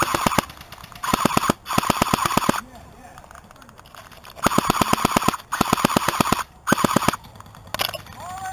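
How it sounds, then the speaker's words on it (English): Airsoft guns, including a JG Skorpion, fire full-auto during a Seal Team 6 game at Godfather Airsoft: close, rattling bursts that stop and start with short pauses between them. "I just know I'm being shot at from over there."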